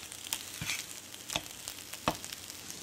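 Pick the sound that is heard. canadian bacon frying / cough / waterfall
canadian bacon frying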